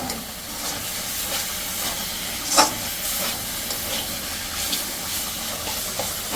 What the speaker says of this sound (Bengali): আমার মা এখানে শাক রান্না করতেছে